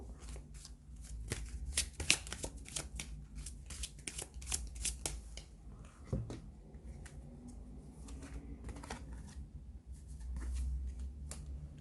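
Oracle cards being shuffled by hand at close range, with a steady run of crisp riffling and slapping card sounds, softer toward the end, and no talking.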